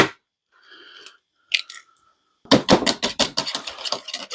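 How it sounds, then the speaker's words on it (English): Two cracked eggs whisked lightly in a bowl, starting with a few brief taps and scrapes, then a quick burst of rhythmic, close clicking strokes about six or seven times a second, with no talk. "we're going to crack 2 eggs into a bowl here. And we're going to give those a light whisk."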